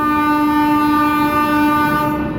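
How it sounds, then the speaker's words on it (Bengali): A Narayanganj commuter train sounds its horn at Kamalapur railway station in Dhaka: one loud, sustained, steady blast held for about two seconds, close by and alone. "নারায়ণগঞ্জ কমিউটার ট্রেনটি ঢাকা কমলাপুর রেল স্টেশনে প্রবেশ করেছে"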